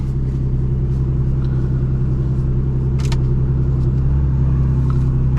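An Aston Martin DB11 V12 idles with a deep, steady, loud rumble close by, a couple of faint clicks or key jingles over the continuous engine drone.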